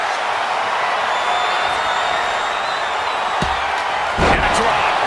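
A wrestling slam onto the mat in a video game lands as a heavy thud near the end. A roaring arena crowd and commentary run steadily underneath.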